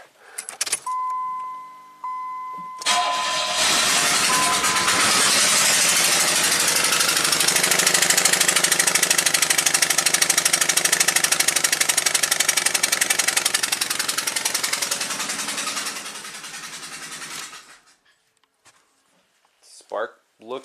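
A 1990 Buick Regal V6 with a severe low-power fault is cranked and started after a brief jingle of keys, then runs loudly and steadily close by for about fifteen seconds before shutting off.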